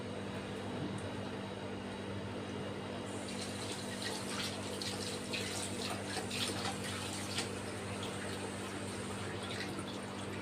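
A tap runs steadily into a sink while hands are washed, a constant close splashing stream that brightens and grows busier after the first few seconds, with no talking.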